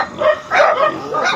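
A dog barks and yips in a rural farm setting near a pig pen, giving several close, fairly loud barks in quick succession with whiny overtones and no talk.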